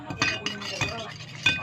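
A spoon stirs milk in a cup, giving a few bright metallic clinks at uneven intervals, close and fairly loud against a quiet room.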